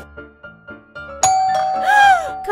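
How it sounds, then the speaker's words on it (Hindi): A doorbell chimes with a ding-dong tone, ringing clearly after a few soft short notes, loud and close, with the chime ringing out. "घंटी कौन बजा रहा है?"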